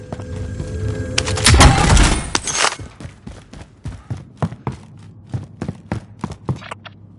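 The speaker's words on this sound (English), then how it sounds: "You just hear the bullets thudding." Gunfire in the Call of Duty Warzone video game: a dense burst of shots followed by a string of sharp, separate impacts and thuds of bullets hitting, loud and close, with no talking.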